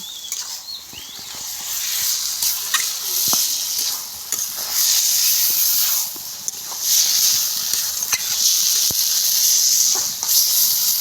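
Vegetarian kochu saag (taro greens) hissing and sizzling in a kadai pan, a loud close steady hiss with scattered pops and stirring clicks throughout.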